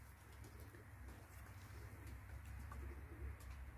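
Pigeons coo softly and repeatedly among a flock kept in a loft, low and faint against a steady background hum, with no talking.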